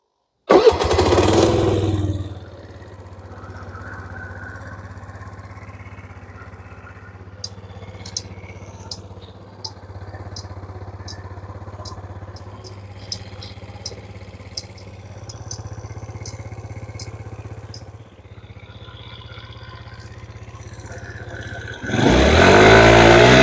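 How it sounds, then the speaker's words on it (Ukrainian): A Suzuki Lets 4 scooter engine sputters to life and settles into a steady idle, with light ticking above it, before revving louder at the end. "Двигун працює без жодних нарікань."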